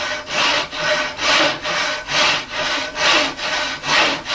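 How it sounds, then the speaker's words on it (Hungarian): A hand saw cuts through wood along a marked line: loud, close, rhythmic strokes, about nine even back-and-forth rasps in quick succession with no talk. "Így elkezdem fűrészelni,"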